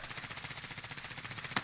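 Rapid automatic gunfire in Call of Duty: Warzone, a steady run of close, rhythmic bursts with no talking.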